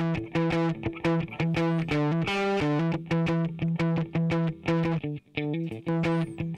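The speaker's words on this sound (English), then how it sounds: "So a very useful distortion." Guitar-like notes run through a Waves Manny Marroquin distortion plug-in, giving a dense, buzzy, saturated tone with rich harmonics; chords and notes are played in a steady rhythm, loud and continuous with no talking.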